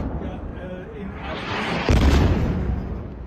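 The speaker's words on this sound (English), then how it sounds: "The sound of explosion echoed across Tehran this week" An explosion from a strike on Tehran booms out, a deep, heavy blast that rolls in after a low rumble and lingers, with a voice speaking over it.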